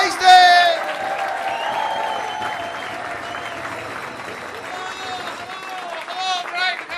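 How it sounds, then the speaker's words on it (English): A comedy club crowd in Brighton applauds and cheers loudly as stand-up comedian John Hastings is welcomed on stage, with dense steady clapping, whoops and whistles that peak at the start and swell again near the end. "get a bit more, a bit of cheering, come on"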